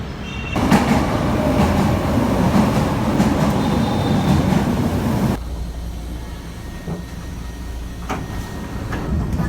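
A light rail train rumbles and rattles nearby, its loud running noise suddenly dropping to a quieter hum with faint clicks and squeals.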